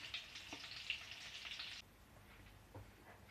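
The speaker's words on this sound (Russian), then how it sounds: "Ну и так обжариваем все остальные рулетики." Lavash rolls stuffed with cottage cheese fry in a pan, giving a steady soft sizzle that cuts off partway, leaving faint scattered crackles and pops.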